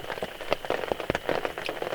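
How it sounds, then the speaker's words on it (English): Rain patters on a surface at a wilderness campsite, quick irregular drops tapping close by over a soft, steady wash. "relax, listen to the pitter patter of the rain"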